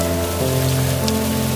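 Rain falls steadily in a cartoon scene, producing a dense, continuous patter with a sustained musical tone underneath.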